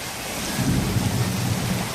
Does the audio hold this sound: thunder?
yes